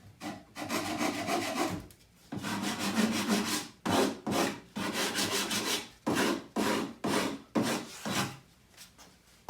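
Hand rasp or file chamfering the edge of a wooden horse, rhythmic back-and-forth rubbing strokes in quick bursts with brief pauses, close and fairly soft.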